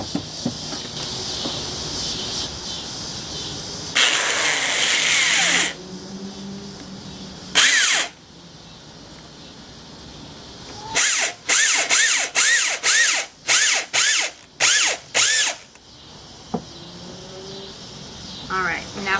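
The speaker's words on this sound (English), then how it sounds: "I'm going to screw 2 screws" A power drill drives two screws to fix a wooden pumpkin onto its base: one long whirring burst, a short one, then a rapid series of brief stuttering pulses, close and loud, with quieter handling noise between.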